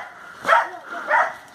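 A dog barks twice, close and fairly loud, about half a second apart, in a back alley in Goa.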